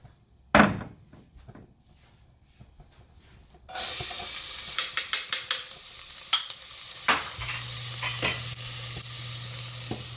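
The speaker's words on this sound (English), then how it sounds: "start the process of sweating the onions and the garlic" Onions and garlic sweating in olive oil in a pot for Italian meatballs: a steady sizzle rises abruptly after a quiet start, with a few scattered clinks and stirring taps over it and a low hum near the end.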